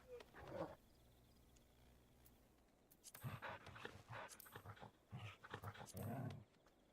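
A dog in the video game Final Fantasy XIV makes short panting and whimpering bursts at moderate loudness, coming in several clusters with brief pauses between them and no talk over them.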